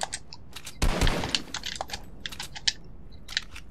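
Rapid bursts of gunfire in the video game Fortnite, a loud cluster of shots followed by scattered sharp cracks and pops, with no talking.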